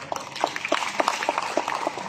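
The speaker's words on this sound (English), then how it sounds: "give them a round of applause as well" A short burst of scattered audience applause for leaders seated at the front of a business talk, a few distinct claps at moderate loudness with no speech over it.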